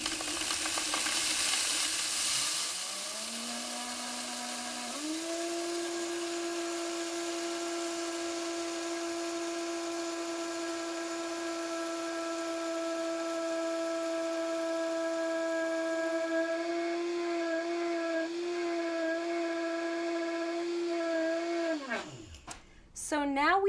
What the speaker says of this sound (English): I'll grind the wheat berries for about a minute.